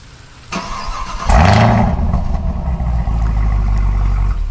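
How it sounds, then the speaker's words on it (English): A 2023 Chevrolet Camaro ZL1 Convertible fires up with a sharp burst, then settles into a deep, loud, rumbling idle from its quad-tip dual exhaust close by. "that quad tip dual exhaust, which we can take a listen to"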